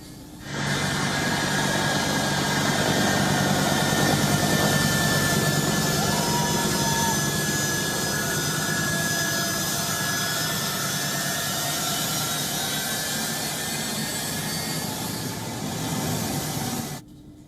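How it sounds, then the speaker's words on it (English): A steady, loud roar of American military aircraft jet engines at takeoff, holding for about sixteen seconds before cutting off. "On your screen is the moment when one of these American planes took off."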